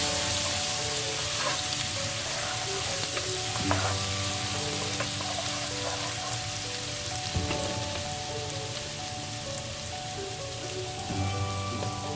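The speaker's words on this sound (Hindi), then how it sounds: "अब उसमें डालें 2 टेबलस्पून जिंजर गार्लिक पेस्ट। इसको अच्छी तरह से सौते करें।" Two tablespoons of ginger garlic paste sauté in a pan for green masala chicken biryani, a loud, steady, close sizzle with occasional stirring scrapes throughout.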